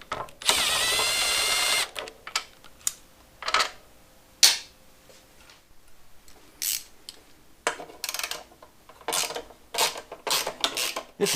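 Ratchet wrench clicking in short bursts while working on a barn-find Honda CB750 motorcycle during a chain and sprocket replacement, with a steady buzzing stretch at the start and scattered metallic clicks and clanks, close and moderately loud.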